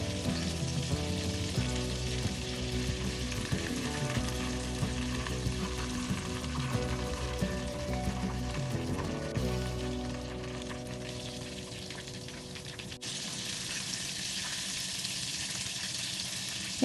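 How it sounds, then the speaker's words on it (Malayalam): Scotch eggs deep frying one at a time in hot oil in a small pan for about six minutes until browned, a steady dense sizzle throughout with a tonal music-like bed underneath that thins out partway through. "ഏകദേശം ഒരു 6 മിനിറ്റ് നേരം വറുത്ത് നല്ല ബ്രൗൺ നിറമാകുന്നിടം വരെ വറുത്തെടുക്കാം."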